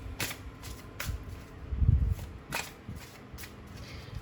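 Tarot cards being drawn from a deck, several quick papery snaps and slides spaced about half a second apart with a soft low thump in the middle, close and fairly quiet.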